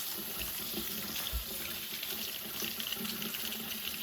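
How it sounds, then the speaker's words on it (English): Warm water runs steadily from a kitchen sink tap, a constant close hiss and splash with no talking. "the first thing you want to do is turn the water on"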